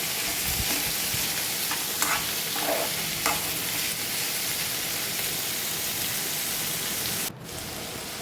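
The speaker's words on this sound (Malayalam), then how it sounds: "തക്കാളി എല്ലാം കൂടി ചേർത്ത് നന്നായിട്ടൊന്ന് വഴറ്റി എടുക്കുന്നുണ്ട് ഇളക്കി കൊടുക്കണം അടിയിൽ പിടിക്കാതിരിക്കാൻ" Close, constant sizzle of tomatoes sautéing in a pan for squid roast, with occasional scraping stirs, no talking, the hiss easing slightly near the end.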